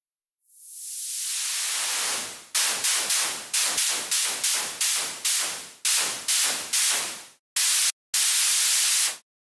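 White noise from a synthesizer noise oscillator with a high-pass filter: a long swelling hiss, then a rapid run of short chopped bursts, and finally a few longer blasts, loud and alone.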